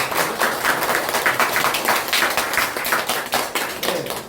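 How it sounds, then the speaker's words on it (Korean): Steady, fairly loud clapping of hands at a quick even rhythm, sustained for several seconds with no voices over it. "박수를 쳐주는 것도 굉장히 좋습니다"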